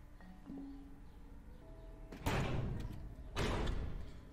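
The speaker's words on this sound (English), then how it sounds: "This guy keeps on like knocking doors open and not closing them behind him." Doors knocked open during a Squid Game episode, two heavy thudding bangs about a second apart over low background hum, with no talk.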